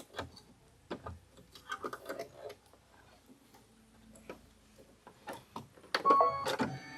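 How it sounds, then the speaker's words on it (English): An embroidery machine stitching out a wavy stitch on a quilt block, with irregular mechanical ticks and clacks close by and a louder cluster near the end. "And there's your wavy stitch. So what it's stitching out right now."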